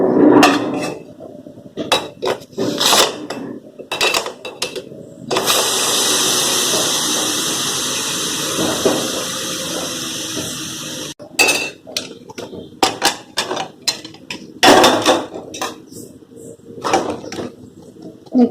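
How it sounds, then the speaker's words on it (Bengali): A kitchen pressure cooker of boiled taro is opened after its whistle: metallic clinks and lid clatter come first, then a long steady hiss of escaping steam, followed by more scattered knocks and clinks of the pot. "এবার আমি এখানে প্রেসারটা খুলে নেব।"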